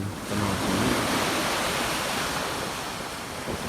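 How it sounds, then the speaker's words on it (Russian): Sea waves on the Azov Sea, a steady broad roar of surf washing in loudly and continuously, mixed with wind noise. "Вот такое прекрасное море."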